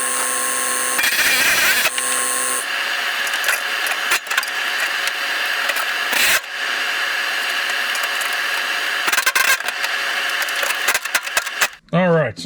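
A power tool cutting rust out of a truck's front bed floor support, whining loudly in long bursts broken by short pauses and clanks, then a warbling sweep at the end.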